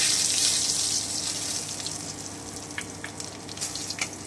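Dry red chillies, cumin, bay leaf and crushed garam masala hit hot oil, giving a bright hissing sizzle that fades slightly, with scattered crackles and pops toward the end.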